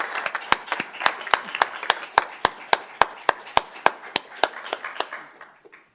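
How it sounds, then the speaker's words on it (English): Rhythmic hand clapping in a school governing board meeting room, a few close, evenly spaced sharp claps repeating steadily for several seconds before fading out at the end. "can we just give a round of applause for the presentation you just did?"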